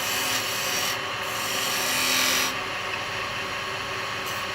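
Carbide chisels cut a wooden Christmas nutcracker spinning on a lathe, a close, loud rasping scrape that swells and eases as the tool is rolled over the turning wood.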